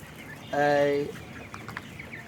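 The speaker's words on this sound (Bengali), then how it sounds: "এই দেখুন মুরগি কিভাবে খাচ্ছে এই খাদ্য" A flock of chickens at a poultry farm in Burichang, Comilla, gives one loud harmonic squawk with faint background clucking and rustling.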